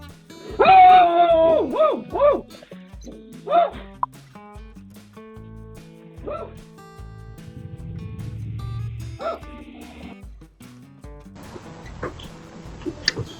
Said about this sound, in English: the dog started barking and scared him away